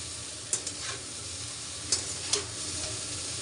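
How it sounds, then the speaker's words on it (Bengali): Chow mein frying in a pan gives a continuous close sizzle, broken by a few sharp clinks and scrapes of a spatula stirring the noodles. "আমি একটুখানি ভালো করে ভেজে মানে বেশ ভাজা ভাজা হলে বেশ ভালো লাগে খেতে"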